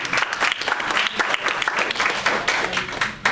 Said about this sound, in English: Let's give Jeremy a round of applause.